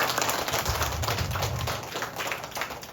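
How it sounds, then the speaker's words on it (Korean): A church congregation claps together at an anniversary worship celebration, a dense, steady patter of many hands lasting the whole stretch without pause. "박수 한번 쳐드릴게요."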